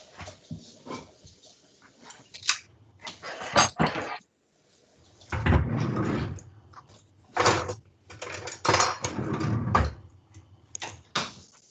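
Metal pans clatter and knock in a home kitchen, a run of sharp bangs and scrapes in uneven bursts with short pauses between, fairly close and loud.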